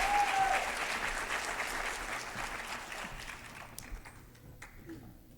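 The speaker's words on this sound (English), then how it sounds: "Let's give Kayleen, Traquan another round of applause." Applause from a university audience at a State of the University address, many hands clapping steadily, then thinning into scattered claps as it fades.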